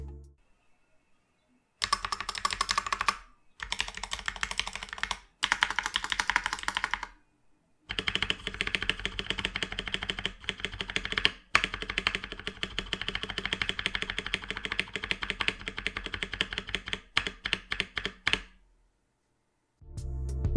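Fast clacky typing on a cheap custom mechanical keyboard with unlubed, slightly rattly switches, bursts of keystrokes separated by short pauses, close and alone.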